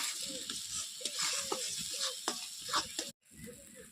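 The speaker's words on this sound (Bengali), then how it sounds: "মশলা দেবা ভালো করে ভেজে নেবো" Spices, including Kashmiri chilli powder, sizzle and fry steadily in a hot pan with frequent stirring scrapes, loud and close, before a brief pause and more sizzling.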